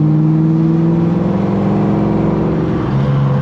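A supercharged Fox body Mustang with a Vortech blower, GT40 heads and an AOD automatic roars at high revs on a dyno, loud and close, with a steady engine drone and rising whine that shifts pitch near the end as the tires spin.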